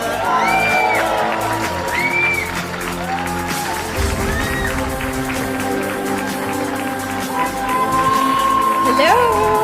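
Pageant crowd at the Miss Universe 2017 preliminary competition cheers and whoops loudly in a sustained wave as the reigning Miss Universe co-host is introduced, with a host's amplified voice and stage music running over it.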